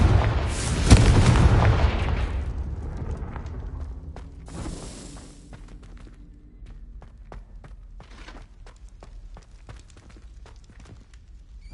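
A Confringo spell blast in a PS4 video game: a loud, close boom that rumbles and slowly fades, followed by quieter scattered clicks and steps.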